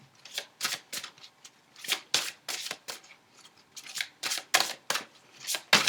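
Tarot or oracle cards are shuffled and drawn by hand, with close, crisp bursts of riffling and slapping cards in an irregular rhythm.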